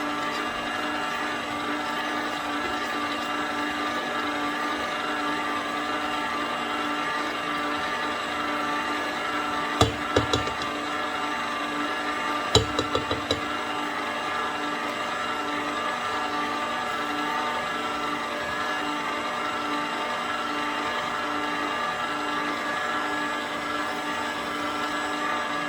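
An electric stand mixer whirs steadily through vanilla cake batter, a continuous close motor hum with harmonic whine, interrupted twice by short clattering knocks.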